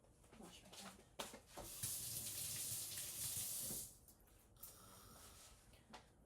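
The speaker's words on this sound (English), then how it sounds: "Wash my hand." Tap water runs into a kitchen sink for a few seconds as hands are washed while cooking Filipino bistek, a soft steady splashing rush that stops abruptly.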